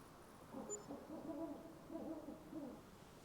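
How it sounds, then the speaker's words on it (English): A hoot owl calling in Farming Simulator 25, a soft, low hooting phrase repeated a few times over steady quiet game ambience, with no talking. "I hear a hoot owl"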